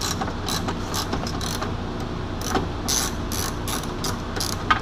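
Ten-millimeter ratchet working on the door panel bolts of a Porsche 986 Boxster, a quick run of close, rhythmic clicking bursts repeating through the clip with no one speaking.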